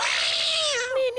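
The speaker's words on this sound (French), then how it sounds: "Allez, viens, mon minou." A cat meows in one drawn-out, falling cry, close and fairly loud, with a bending tone near the end.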